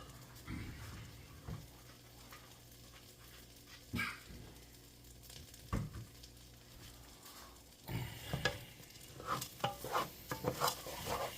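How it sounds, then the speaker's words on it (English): Tomato risotto rice being stirred in a pan with wine, a spoon scraping and sloshing in irregular strokes over a soft sizzle, with a few louder clatters. "we're going to keep mixing it up until the rice is cooked"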